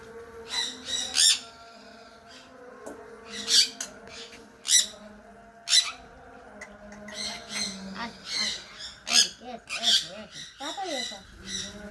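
A pet bird lets out repeated sharp, harsh squawks in short bursts, close by, interspersed with softer chirps and some quiet background voices.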